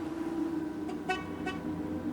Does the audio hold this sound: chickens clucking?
no